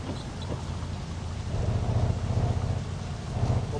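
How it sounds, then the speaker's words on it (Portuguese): Rain and thunder in the driving game My Summer Car: a steady hiss of rainfall with deep rolling rumbles of thunder swelling in the low end, continuous and fairly loud. "Ah, e veio chuva, né, mano?"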